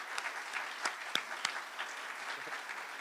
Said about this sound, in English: Let's give him a round of applause for everything he does for this.